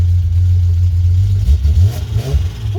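A car engine idles with a steady low rumble, then revs up in several rising surges that fall back, close and loud throughout.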